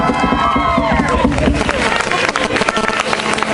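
Concert audience applauding at a live show in Calvello, a dense, steady wash of many hands clapping close and loud, with a brief voice or tone at the start before the clapping thickens.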